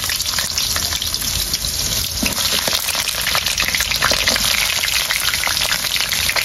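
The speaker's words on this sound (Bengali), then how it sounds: "এখন বেগুনগুলো একটু ভেজে নেব।" Eggplant pieces frying in hot white oil, giving a loud, dense, continuous sizzle and crackle close to the pan with no pauses.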